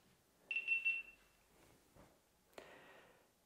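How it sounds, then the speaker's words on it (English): A GoPro Hero 10 or 11 action camera powering on gives a short run of three quick high-pitched electronic beeps, clear and close, followed by faint handling clicks and a sharp tap. "You will hear some beep, beep, beep, beep, beep."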